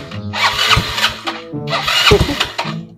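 Vehicle engine being cranked and started during a driving lesson, two bursts of starter whirring and catching engine noise with short pauses between, close and fairly loud.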